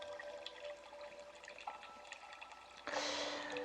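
Water flows quietly and continuously in the background, a soft, even wash that swells louder and brighter toward the end, with no voices.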